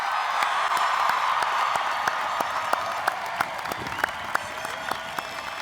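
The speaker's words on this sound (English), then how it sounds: "Let's give them a round of applause." A large crowd applauds at the North Paulding High School class of 2019 graduation, with sustained dense clapping and a few sharper individual claps throughout.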